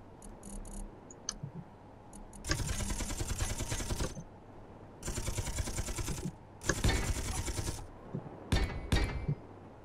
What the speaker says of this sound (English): Now I just need to figure out how to fire these Gatling guns.